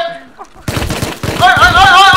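Rapid M5 rifle fire in the survival game Rust crackles in a dense burst after a short quiet lead-in, loud and close, with a voice talking over the shots.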